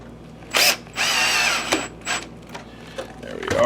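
Power screwdriver driving a screw into the door of a Sanyo PLC-XM150L LCD video projector, heard as a few short whirring bursts of the motor with clicks and handling noises in between.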